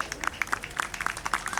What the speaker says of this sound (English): let's hear some applause for them because they really deserve it